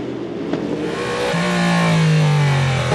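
Race cars roaring into the Mulsanne corner at the 24 Hours of Le Mans 2023 during an overtake, a loud sustained engine note rising and holding steady as a car passes close, no talk.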